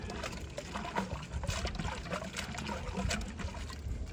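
Rinse water poured out of a container after cleaning iron particulates, a close, steady trickling splash lasting several seconds with no talk.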